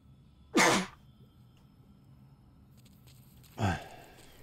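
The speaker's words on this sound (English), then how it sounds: "Gotta sneeze." A person playing a video game sneezes twice: two sharp, short bursts a few seconds apart, heard close and fairly loud over a quiet background hum.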